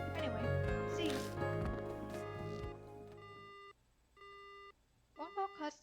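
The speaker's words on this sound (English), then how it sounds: "Phone call cuts off abruptly." A phone call in a video game cuts off abruptly: a dense musical tone ends sharply, followed by several short electronic beeps of a disconnected line, clear and isolated.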